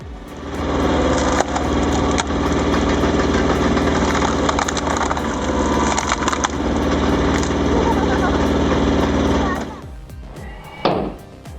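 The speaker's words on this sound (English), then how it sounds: "This firewood splitter is certainly a mechanical marvel" Firewood splitter machine splitting logs, a loud continuous mechanical roar with woody cracking and splintering for about ten seconds, then stopping with a few brief knocks at the end.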